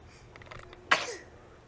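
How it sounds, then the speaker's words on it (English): A baby gives a single sharp, close sneeze after a few soft breaths in a quiet room. "Here's a cute baby sneezing out of focus."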